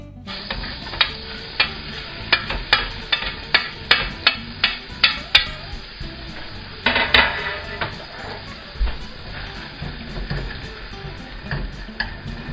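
Finely diced and shredded onions go into a hot pan of beef juices for peppercorn sauce: a run of loud metallic clacks and scrapes against the pan over a steady sizzle, easing into softer stirring later, with no talking.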